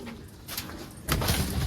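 Pigeons coo softly in a short, low burble, close by and unaccompanied by voices.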